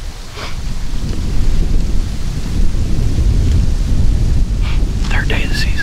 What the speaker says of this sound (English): Pretty windy tonight.